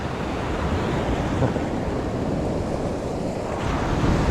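Ocean surf washing onto a beach on Florida's Treasure Coast, a steady broadband roar of breaking waves and wash with wind buffeting the microphone, continuous and fairly loud throughout with no talking.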